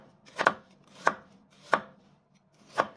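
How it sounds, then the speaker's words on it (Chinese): A knife slicing washed carrots on a cutting board, four distinct crisp chops spaced about half a second apart, close and alone. "将洗干净的红萝卜切片"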